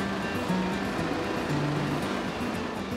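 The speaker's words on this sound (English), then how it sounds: "you get a sort of tumultuous wave breaking and sort of waves going in all sorts of directions" Tumultuous, steep waves break and surge at Red Rocks on the Cook Strait coast near Wellington, giving a steady, dense roar of surf with no voices.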